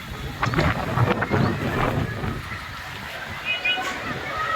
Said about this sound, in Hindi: ऐसा खौफनाक तूफान